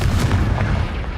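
A spell explosion in Hogwarts Legacy, heard as a short, loud, booming blast with a deep rumbling body that fades within about a second.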